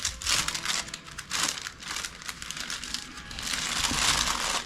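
Thin sheets of wet palette hydration paper being handled and crinkled up close, giving bursts of crisp rustling and crackling that swell and fade, with a longer sustained crinkle at the end.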